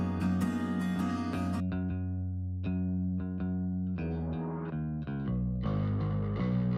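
Distorted bass guitar line drives a produced song, heavy and sustained with shifting notes and layered instruments throughout, no voice.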